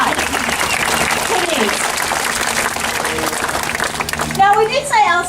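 Audience applause at a zoo bird show in Sydney, a steady outdoor patter of many hands clapping with voices over it, ending as bird calls and speech take over.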